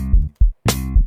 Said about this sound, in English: So you can hear it like a slap on the bass guitar.